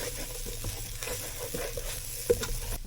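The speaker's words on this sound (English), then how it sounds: "You don't want to burn the rice, you just want to toast it for a couple of minutes." Rice toasting in a hot pan for jambalaya, a steady close sizzle and crackle broken by scraping stirs and a sharp tap of the spoon.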